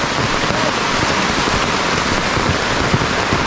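Heavy, steady rain falls close by on a rural Philippine farm, a dense continuous hiss with a few louder drops and no talking.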